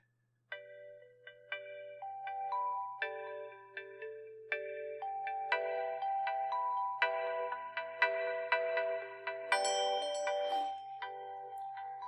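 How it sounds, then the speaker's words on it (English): A phone plays its Awaken alarm tone, a bright synthesized melody of plucked notes that builds in layers and grows busier over about twelve seconds, playing alone and fairly quiet. "It's the Awaken alarm sound"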